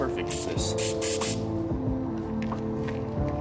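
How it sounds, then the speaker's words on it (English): Atmosphere Aerosol haze spray is released in several short, hissing bursts close to the mic during a toy photography shoot at an abandoned ironworks, while a person talks over the spraying. "making some cool, like, sun rays with the Atmosphere Aerosol"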